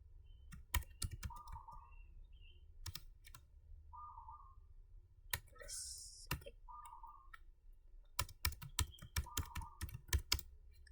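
Keyboard shortcuts typed on a computer keyboard, close and crisp, with scattered single key clicks, then a dense rapid run of keystrokes near the end, plus a few faint beeps and soft rustles between.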